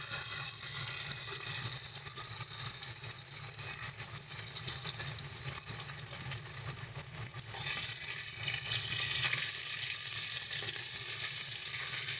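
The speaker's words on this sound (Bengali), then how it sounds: "চলো এবার এক এক করে আমরা মাছগুলো ভেজে নেবো" Bata fish frying in hot oil for a curry, a steady loud crackling sizzle that stays continuous and close with no pauses.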